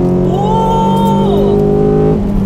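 The Beta engine in a 2001 Hyundai Tuscani revs hard at high rpm, giving a loud, continuous, close engine howl whose pitch climbs, holds and then falls back as the throttle eases.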